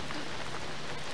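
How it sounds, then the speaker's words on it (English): Steady rain falls outside at night on a residential street, a dense, continuous hiss of drops hitting surfaces, even and unbroken throughout. "Well, it's raining"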